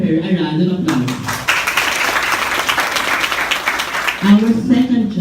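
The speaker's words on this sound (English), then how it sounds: "Let's give her a round of applause." Audience applause for a judge at a class debate, a sustained burst of clapping from a seated crowd lasting about three seconds, with an announcer's voice before and after.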